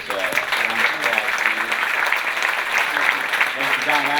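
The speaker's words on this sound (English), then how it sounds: "Let's give our panel of authors a round of applause" An audience gives a round of applause for a panel of authors at a science festival, steady dense clapping throughout with voices faintly mixed in.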